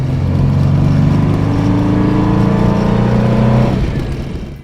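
A car engine hums steadily at close range with a tonal drone that shifts pitch, then eases off and fades near the end, driving across the Bonneville Salt Flats.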